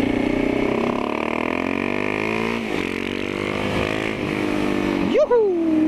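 A Kawasaki Z650 motorcycle engine runs through a small exhaust, holding a steady droning note that dips and then rises in a quick rev near the end, with people talking over it.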